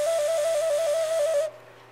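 A clay whistle is blown in one sustained, fairly loud tone that wavers slightly in pitch, then stops abruptly after about a second and a half.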